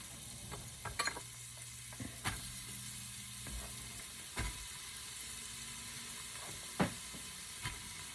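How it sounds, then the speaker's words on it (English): Carrots and onions sweating in fat in a pot for a seafood bisque, a faint steady sizzle with scattered clicks and knocks of a spoon, quiet and close. "Now, we're going to take this and we're going to sweat this down and stir it up."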